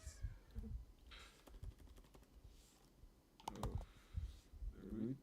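Typing on a computer keyboard, with quiet clusters of quick keystroke clicks separated by short pauses, a few sharper taps standing out.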